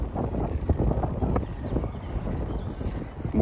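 Wind gusting outdoors beside King's Pond, a fishing water near Farnham, as a steady low rumbling buffet across the microphone with no voices, loud and continuous throughout.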